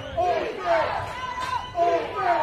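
High school football championship crowd of DeWitt Clinton fans cheering and chanting in rhythmic surges, a dense roar of many voices with a chant repeating twice.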